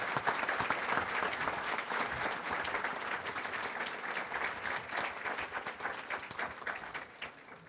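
Sustained applause from an audience at an ESL graduation ceremony, loud and steady throughout with dense clapping, easing slightly near the end.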